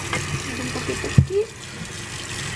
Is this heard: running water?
yes